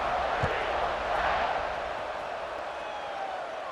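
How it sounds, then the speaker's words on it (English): A football stadium crowd waits for a kickoff after a score, making a steady, loud roar of many voices that swells slightly and then holds. "They're set to kick it off, and this crowd now ready to get behind them."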